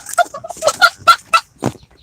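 A short burst of chickens clucking up close, a quick series of choppy, throaty clucks lasting about two seconds.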